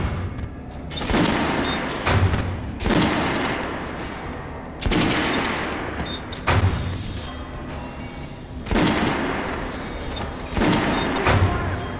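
The Kalash assault rifle in the game Metro: Last Light fires in loud, close bursts about every two seconds, each a rapid cluster of sharp reports with ringing tails in between.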